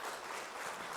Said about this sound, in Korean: 그럴 때 박수를 한번 쳐줘도 괜찮을 것 같은데